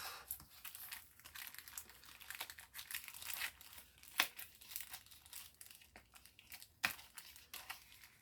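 Paper and plastic packaging for a kippers delivery being torn open and crinkled, close up, with steady rustling, several sharp tearing bursts and crisp crackles and no talking.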